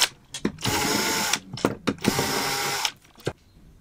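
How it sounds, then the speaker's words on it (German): Hinge boring drill bit cutting holes in wood, two sustained loud grinding bursts of the drill, each framed by short mechanical clicks and thumps, followed by a quiet tail. "Mit diesem Scharnierbohrer bohren wir jetzt die Löcher."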